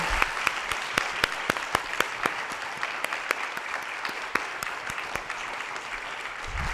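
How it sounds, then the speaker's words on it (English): An audience applauds at the end of a conversation event, with steady, moderately distant clapping and a few sharp, distinct claps standing out, continuing without talk. "Give them a round of applause again."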